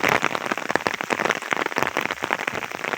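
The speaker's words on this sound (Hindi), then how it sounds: "बारिश बहुत तेज़ हो गई" Heavy rain pours on a village, a dense, steady patter of drops striking surfaces close by, continuous and loud for the whole stretch with no voices.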